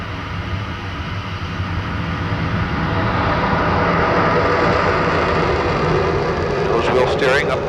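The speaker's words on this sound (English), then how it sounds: "Full afterburner." Jet engines of a Lockheed SR-71 Blackbird roar at full afterburner on takeoff, a loud, broad and building rumble that swells after the first few seconds and holds steady, with a voice heard over it.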